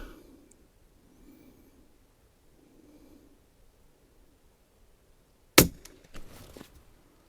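A single sharp rifle report with Eley Subsonic 38-grain hollow point rounds at a 50-yard range, a quiet crack followed by a brief scatter of smaller knocks and clatter, after a long near-silent stretch.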